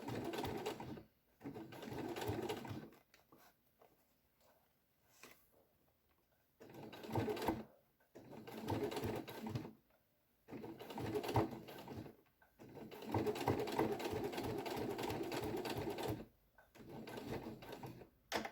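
A sewing machine stitching faux leather fabric for a school pencil case runs in several bursts of rapid, even mechanical whirring, separated by short pauses, loud and close with no talk.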